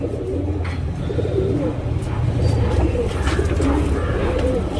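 Medium-sized pigeons coo steadily at close range, low throaty calls overlapping in a continuous murmur with faint background sounds.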